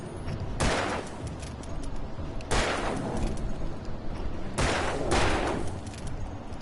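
Gunfire from the video game Alan Wake Remastered, set at a gas station: three loud bursts of shots spaced a couple of seconds apart, each with a sharp attack and a trailing echo, over a constant ambient bed.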